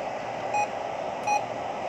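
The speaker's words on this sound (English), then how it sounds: "Roger beep 3" Two short, clean electronic tones from a Stryker SR-94HPC CB radio's roger beep, spaced under a second apart, with a faint steady hiss between them.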